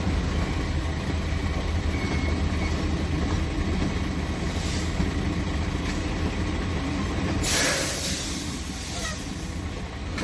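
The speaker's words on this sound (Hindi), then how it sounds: "तो हमारी ट्रेन राइट की तरफ मुड़ जाएगी यहाँ से।" The Rajdhani Tejas express, train 12952 from New Delhi to Mumbai, rolls along the tracks with a steady loud rumble and rattle heard from inside, and a brief sharper hiss or screech rising near the end.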